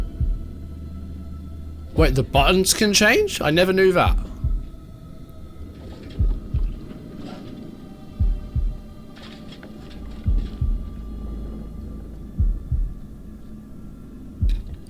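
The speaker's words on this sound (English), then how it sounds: "Oh god, the heartbeat. I forgot about the heartbeat." A low, thumping heartbeat plays as a suspense effect in the horror game House of Ashes, regular paired throbs repeating close and deep, with someone talking over it early on.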